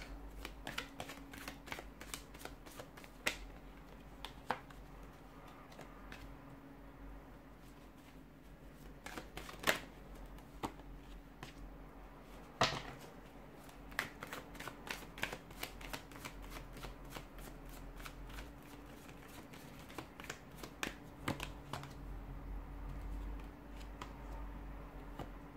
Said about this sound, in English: let's go ahead, give the cards a shuffle, and let's begin